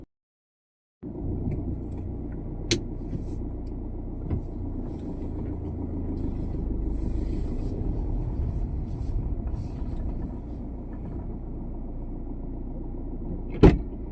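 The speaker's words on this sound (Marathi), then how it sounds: "सेल्फ मारल्यानंतर गाडीला 1 मिनिटाचा तर निदान वेळ द्यायला पाहिजे." A New Holland tractor engine idles steadily after a self-start, a continuous low diesel rumble beginning abruptly after a second of silence, with a couple of sharp clicks and knocks on top.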